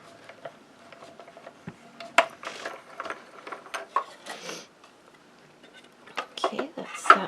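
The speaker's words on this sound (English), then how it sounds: "do have to hold this machine down a little bit to crank" A hand-cranked die-cutting machine is turned in short bursts of ratcheting, clicking mechanical noise, fairly close and moderate in level, with a pause midway before it resumes.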